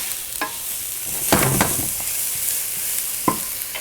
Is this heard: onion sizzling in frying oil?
yes